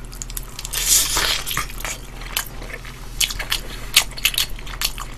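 Someone bites into spicy red kkanpung fried chicken sprinkled with peanuts and chili peppers, with several close, crisp crunches followed by moist, squishy chewing, and no one speaking.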